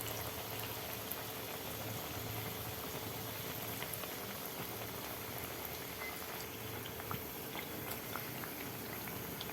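Alu vadi, rolled colocasia-leaf fritters, frying in hot oil in a pan: a faint, steady bubbling sizzle with scattered tiny pops and crackles, continuous throughout with no voices.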